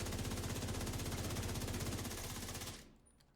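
The Lexington gun in The Division 2 fires a rapid, steady full-auto stream, loud and close with an even rhythmic chatter, then cuts off abruptly and leaves a fading tail.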